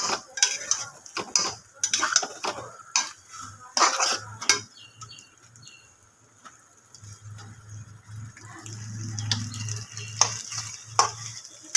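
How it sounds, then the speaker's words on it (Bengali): Pasta being stirred in a pan, with repeated scraping and clinking of a utensil against the metal and a soft sizzle underneath, in a steady rhythm close up with no talking. "ভালো করে আমি নাড়িয়ে নেব, ভালো করে এটাকে নাড়াচাড়া করব।"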